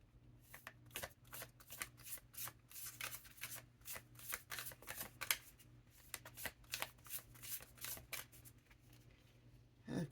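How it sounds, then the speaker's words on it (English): A tarot deck being shuffled by hand, producing a long run of crisp, rapid riffling and flicking bursts at close range over a faint steady hum, with no talking. "I'm going to pull a card from the SUFI Tarot."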